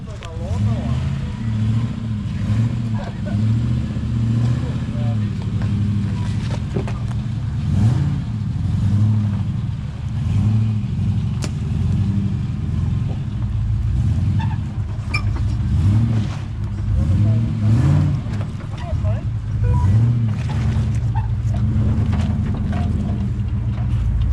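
An ex-army Unimog grinds up a steep off-road slope in first gear, its diesel engine laboring with a steady, heavy low rumble and rhythmic surges throughout, while someone talks over it.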